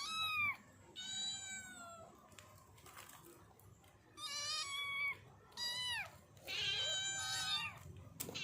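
A cat meows repeatedly and loudly up close, with several drawn-out plaintive cries separated by short pauses.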